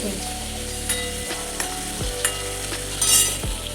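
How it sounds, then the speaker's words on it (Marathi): Peas frying in oil in a pan while cooking a traditional Maharashtrian vegetable dish, a soft continuous sizzle with occasional light stirring scrapes and clicks, close and fairly quiet. "तेलात वटाने थोडे फ्राय करून घ्यायचे"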